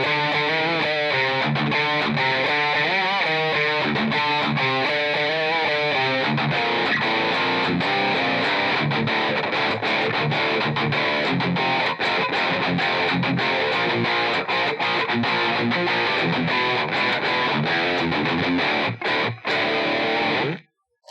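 Electric guitar through a Friedman BE-OD overdrive pedal playing a riff with sustained chords and chugging palm-muted strums, loud and continuous with no speech.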